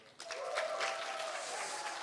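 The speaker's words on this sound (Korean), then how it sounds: "여러분의 큰 박수로 궤도님을 무대로 모시겠습니다" An audience breaks into applause, a sudden burst of clapping that stays full and steady to the end.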